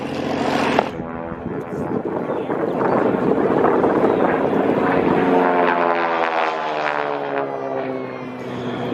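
A vintage North American Harvard propeller trainer roars loudly at an airshow, its engine drone steady and close with a slight pitch sweep as it passes, with wind buffeting the microphone.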